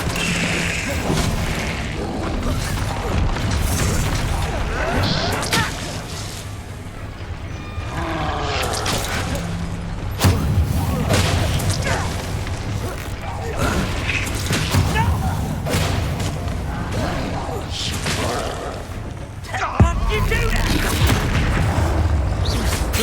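Fiery and blasting spell explosions in Hogwarts Legacy combat, repeated booms and crashes rising out of a dense, loud battle din, with sharp strong hits at intervals and a voice speaking at times.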